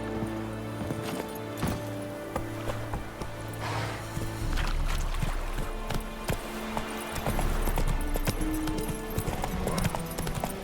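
Roach the horse walks along in The Witcher 3, its hooves giving a steady, even clip-clop at moderate volume over soft outdoor ambience.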